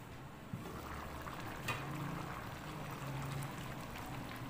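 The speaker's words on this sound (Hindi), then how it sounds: "जब पानी गर्म हो जाए इसमें चावल डालने" Rice pours into a pot of hot water for vegetable rice, giving a steady close pattering and bubbling wash with a brief clink near the start and another near the middle, heard alone without talk.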